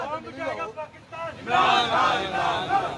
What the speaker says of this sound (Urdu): یہ دیکھ بھی سکتے ہیں نعرے بازی کی جا رہی ہے